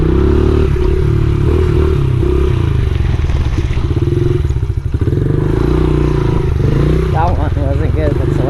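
Honda XR70R pit bike engine running, a loud close rough idle and revving with clattering and thumps as the rider struggles to keep it going while attempting a wheelie.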